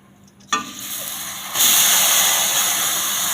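Grated raw papaya dropped into hot melted sugar caramel: a sudden loud hiss bursts in, then an even louder, sustained frying sizzle with steam takes over and continues steadily.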